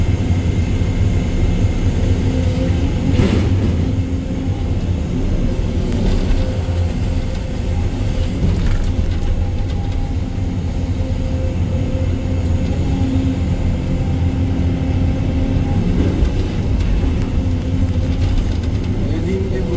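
A Sany 305 excavator loads trucks at a dig site, its diesel engine rumbling steadily and loudly throughout while a person talks over it.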